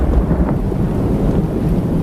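Heavy rain and thunder as a storm effect: a loud, continuous low rumble and roar of downpour filling the whole stretch, steady without breaks, and no voices.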